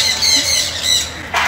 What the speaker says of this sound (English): But you can see some birds here, right? You can get the sound and here we go.